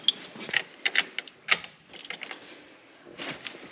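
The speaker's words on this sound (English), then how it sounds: "How about we just use a ratchet to break that loose?" Quick clicking ratchet strokes on a wrench, turned to break a tight bolt loose with a chrome socket, come in short bursts of sharp metallic ticks with pauses between, close by and fairly quiet.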